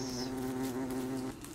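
Bees hum near flowers in the video game Don't Starve, a short steady buzzing drone that holds evenly and then drops slightly at the end, with no voices.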